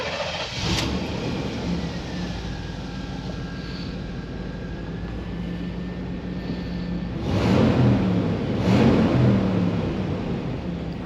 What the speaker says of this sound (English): we are cruising in the 1990 Chevy Suburban 1500